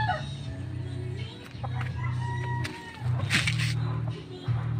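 Fighting roosters cluck and call close by, with short bursts of crowing and squawks over a steady low hum, while someone talks in the background.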